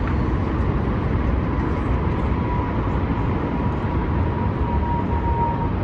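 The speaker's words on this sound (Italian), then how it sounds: "Si sentono gli aerei che ci passano a fianco." Airplanes passing overhead above Manhattan from the rooftop deck of Top of the Rock give a steady, loud, broad roar that holds throughout with a faint tonal whine, and nobody talks over it.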